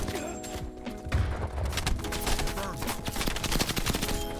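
AK-74u gunfire in Call of Duty: Black Ops Cold War, a run of sharp rapid shots and bursts over busy game sounds and music.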